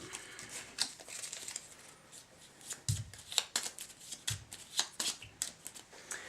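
A deck of board game cards being shuffled by hand close up, with repeated riffling bursts and soft papery slaps in an uneven rhythm and no talking.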